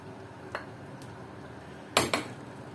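Potato pieces drop into a pan of Filipino chicken afritada and get stirred, giving a faint clink early on, then two sharp metallic scrapes and clatters of utensil against pan close by.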